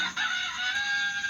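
A rooster crows a single sustained cock-a-doodle-doo, played as a sound clue in a children's animal sound-guessing quiz app, clear and alone without talk.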